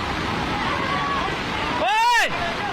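Floodwater rushes in Haldwani, Uttarakhand, where a motorbike rider drives into the torrent: a continuous, loud broadband roar fills the scene, briefly overlaid by a rising-and-falling tonal whine near the end.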